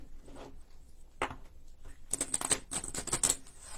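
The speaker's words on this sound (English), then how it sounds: "One more shuffle." Playing cards are riffled and shuffled close by, a few soft taps first, then a quick burst of fluttering card noise.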